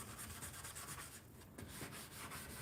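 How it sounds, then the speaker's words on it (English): Steady rhythmic rubbing strokes of 600 or 800 grit sandpaper wet sanding touch-up paint on a 1964 Chevrolet Impala, close and continuous, with a faint wet scrubbing texture. "Doing the wet sanding"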